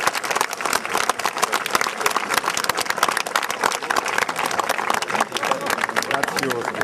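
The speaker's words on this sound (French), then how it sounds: "on peut l'applaudir, Bill." A crowd in Normandy applauding the piper Bill Millin: loud, sustained clapping from many people close by, continuing throughout with voices talking over it.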